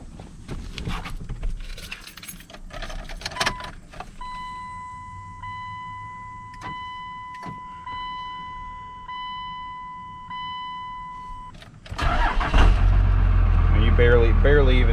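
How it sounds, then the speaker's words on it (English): Keys jangle and a soft ignition chime sounds before a Cummins diesel truck engine catches at once and settles into a loud, steady idle close by. "Barely even touch the key and it's already, she's fired up, ready to roll."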